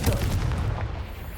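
An explosive Confringo spell cast in the wizarding game Hogwarts Legacy lands as a single deep, booming blast with a short rumbling tail, close and loud, with no voices.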